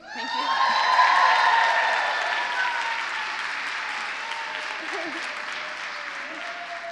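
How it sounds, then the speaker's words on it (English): An audience at an artistic performance event breaks into applause, swelling quickly to a dense peak of clapping and then slowly tapering off, steady and moderately distant throughout. "Could you please give another round of applause for Citra and our beautiful queen?"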